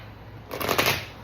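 Tarot cards are riffled together in a short burst of dense papery flutter, moderately close, with no talking over it.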